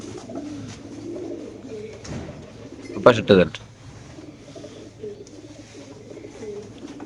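Racer pigeons at a pigeon market, including a red checker bird, coo steadily under ongoing talk, with a short louder burst of calls midway.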